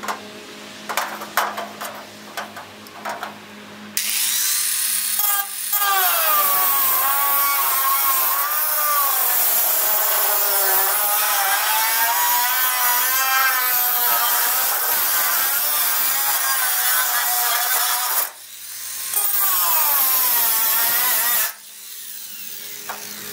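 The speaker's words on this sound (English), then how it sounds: "I'm going to try to cut it with the grinder, see how that goes first." An angle grinder cuts into a wooden post for a shed beside a workshop. The loud, wavering high whine runs steadily for long stretches, breaks off briefly, then starts again near the end.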